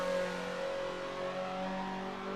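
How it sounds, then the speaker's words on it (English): A Mazda NC Super 20 with a tuned exhaust drones at high revs, a sustained, fairly distant buzzing engine note that holds steady with no talking. "This thing sounds like it's got a mini rotary engine under the bonnet from the way the exhaust has been tuned."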